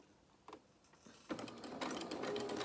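A sewing machine starts a seam with a reverse stitch on fabric dungarees, a couple of soft clicks before it whirs into a steady, close mechanical stitching run with no talk.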